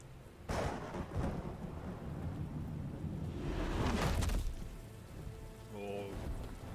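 Rain pours steadily outside a window in the Batman Telltale video game, with thunder rolling loudly twice, the second clap heavier and longer. A short tonal game sound follows near the end.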